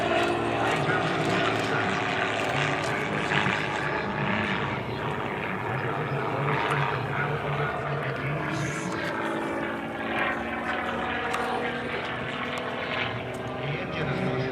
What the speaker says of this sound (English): bringing the plane into stall position and dropping it down. These are controlled spins that he has to come out on.